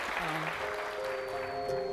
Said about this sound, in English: Let's give Lewis a really big hand of applause